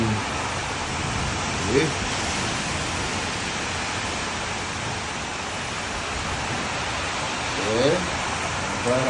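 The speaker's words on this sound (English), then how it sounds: "I'm glad I got back from my walk to the fucking grocery store, cause this rain is for real" Heavy rain pours steadily outside a balcony in a sudden downpour in Kampala, a dense constant hiss, with a voice speaking briefly and a couple of short vocal bursts over it.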